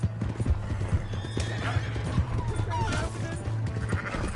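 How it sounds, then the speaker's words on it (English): Hooves clip-clop in a quick rhythm while a horse whinnies loudly in Red Dead Redemption 2, with scattered game effects and faint voices mixed in. "Hey, that's my horse!"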